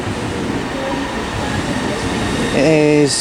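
A Great Western Railway IET train approaches along the platform at Reading station, a loud rumbling roar of wheels and traction with rising tonal whine and a brief squeal near the end.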